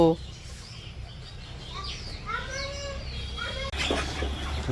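Chickens in a village yard at feeding time, with scattered clucks and bird calls over steady background noise, a voice speaking briefly and a louder burst of activity near the end.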